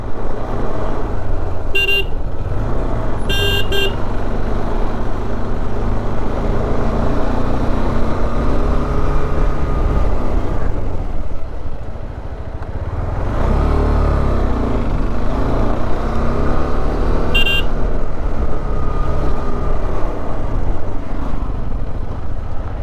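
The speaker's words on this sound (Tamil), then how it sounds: "Traffic guys, சிக்கிட்டோம்." Car horns honk in a traffic jam on a hill road near Ooty, with short toots over a loud, steady idling engine rumble close by.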